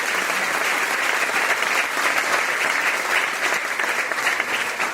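A church congregation claps loudly during a Catholic priest's service, a thick, steady wall of applause sustained for five seconds without a break.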